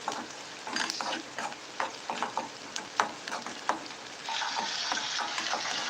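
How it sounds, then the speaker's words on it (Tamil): Onions sautéing in a pan during home evening cooking, a steady sizzle broken by repeated scraping stirs of a utensil, close and fairly loud, with no one speaking. "வதக்கிற சவுண்ட் நல்லா இருந்துச்சுன்னா அதுக்கு ஒரு லைக் போட்டிருக்கோம்"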